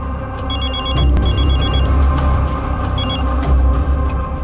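Old-style telephone bell rings loudly in bursts of rapid trilling, with short pauses between rings, over a low background hum in an indoor police drama scene.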